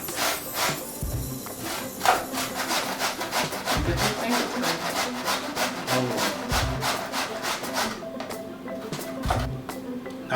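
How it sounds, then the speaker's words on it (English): Potatoes are rubbed down the largest holes of a metal box grater in quick repeated rasping strokes, each pass a bright scraping burst with soft thuds between, close and clear, no talking. "Now that we finished shredding our potatoes"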